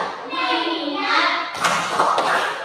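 A class of young pupils chants in unison, then breaks into a couple of loud, rhythmic group claps near the end.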